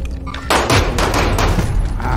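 Rapid bursts of gunfire in the video game Warzone crack and thump loudly in quick succession, forming a dense volley of shots.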